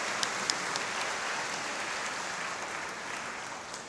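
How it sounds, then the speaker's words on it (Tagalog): Loud, dense applause from a church congregation at a Holy Family feast Mass, a continuous wash of clapping with a couple of sharper claps near the start. "Bigyan natin, mahal na Panginoon, isang malakas na palakpak."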